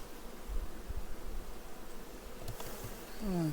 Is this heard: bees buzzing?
yes